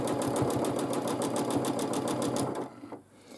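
A sewing machine quilting fabric runs in a fast, steady stitching rhythm for about two and a half seconds, then stops, leaving near quiet.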